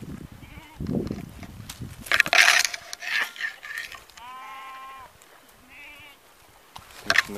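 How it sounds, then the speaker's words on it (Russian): Sheep and goats in a herd at a pond watering hole bleat repeatedly, several overlapping calls near and far against a steady outdoor murmur, with an occasional voice in the background. "Коровы, овцы, Алексей."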